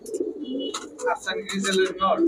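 A male pigeon of a Bengali high-flyer breed coos near someone speaking Bengali, soft repeated calls woven under and between his steady talk.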